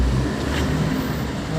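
A truck rumbles by on a road, a low engine drone with a brief hiss midway, with people talking over it.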